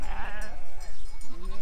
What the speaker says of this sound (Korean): 양들 보십시오, 양들.